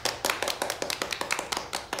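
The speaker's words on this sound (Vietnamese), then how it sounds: "Mọi người hãy cùng vỗ tay chúc mừng nào." Audience applause at a high school Go club gathering, steady crisp clapping in a quick even rhythm, close and fairly loud, with no voices over it.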